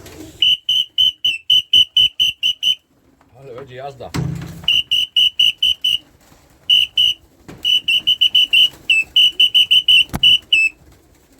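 A shrill pea whistle blown in many rapid short blasts, in bursts with brief pauses, loud and close, with a thump and a spoken line partway through.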